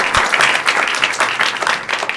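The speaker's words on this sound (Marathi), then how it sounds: "तर एकदा जोरदार टाळ्या झाला पाहिजे प्रियंका झापरडेसाठी" A studio audience on a Marathi talk show applauds a guest with loud, close clapping. The bursts come in uneven waves across the whole stretch.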